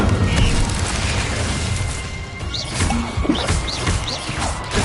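Spell-casting blasts from the video game Hogwarts Legacy, with the Incendio fire spell among them, come as a dense run of booming, crackling bursts over a constant loud rumble, with sharp pops and swishes scattered throughout.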